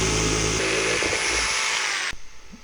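A power tool cuts a hole for a plumbing vent pipe with a loud, steady, close whine for about two seconds, then stops abruptly and leaves only faint room noise.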